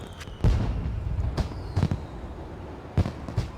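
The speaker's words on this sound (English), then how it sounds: "It's fireworks day." Fireworks in the city-building game SimCity 4 pop and burst in a loose series of sharp cracks and booms, several separate explosions spaced irregularly, moderately loud with no talk.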